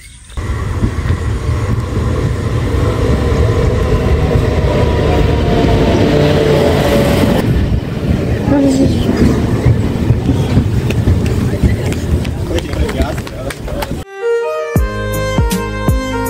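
A train runs through a small railway station, a loud, close, continuous rumble and rattle of wheels and carriages lasting most of the time, then music abruptly takes over at the end.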